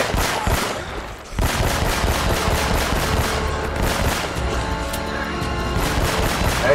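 Rapid gunfire rattles through a firefight in the video game Uncharted: Drake's Fortune Remastered, with loud, close bursts of repeated shots, a brief pause, then sustained automatic fire.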